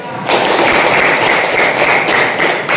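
A class of schoolchildren in an Indonesian classroom breaks into a dense round of clapping that starts abruptly after a brief quiet moment and carries on steadily and fairly loudly to the end.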